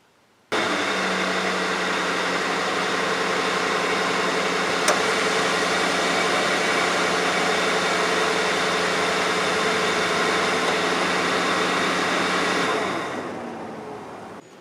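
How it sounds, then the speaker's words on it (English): Steady, close clattering and whirring under the hood of a 2003 Mercury Grand Marquis with a faulty radiator cooling fan assembly, running continuously with the engine idling, then cut off near the end. "what you were supposed to hear was this clattering sound under the hood of this Mercury"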